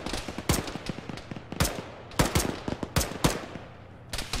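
Machine gun fire in a military video game battle around a destroyed building, with an enemy medium machine gunner: loud, close, sharp repeated bursts separated by short pauses, each crack trailing off in an echo.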